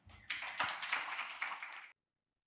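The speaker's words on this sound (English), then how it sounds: "Please join us in giving her a warm round of applause." Applause from a conference audience at a Korean music session at Seoul National University: a crowd of hands clapping steadily for about a second and a half, fairly close and moderately loud, then stopping abruptly.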